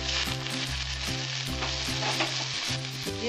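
Ground ginger and cumin paste hits hot oil in a pan of mung dal with potato and pointed gourd, giving a dense continuous sizzle beneath steady background music.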